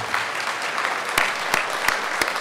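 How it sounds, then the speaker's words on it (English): Applause at a regional conference's gubernatorial forum, honoring candidates Bill Walker and Les Gara: steady, moderately distant crowd clapping with a few sharper individual claps standing out at regular intervals, continuing evenly throughout. "One more round of applause, please, for these two great champions."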